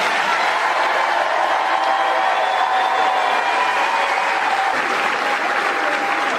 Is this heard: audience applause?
yes